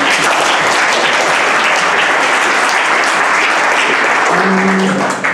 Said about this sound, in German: Das ist auch Applaus für ihn, bitte.